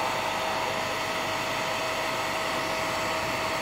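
A hair dryer blows steadily and loudly at close range, heating old sticky tape glue on a 1967 Marx Toys vintage cowboy toy box, a continuous even whoosh with no talking.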